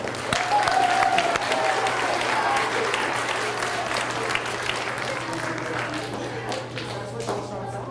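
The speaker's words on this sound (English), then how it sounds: "Let's give Outer Limits a big round of applause on TV" Elementary school children at Syringa Elementary give a big round of applause, a dense, loud wash of clapping with cheering voices that slowly eases off.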